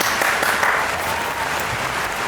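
Steady, even applause from a studio group on a drama review show, continuous and fairly loud throughout with no break.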